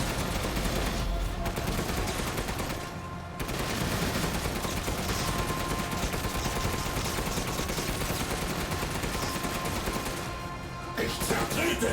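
Dense gunfire in Resident Evil Village, rapid shots packed into a loud, steady barrage with two brief lulls, no talking heard.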